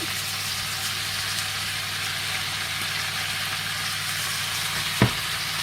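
Chopped onion frying in a pan with venison gives a steady, even sizzle throughout, with one brief sharp knock near the end.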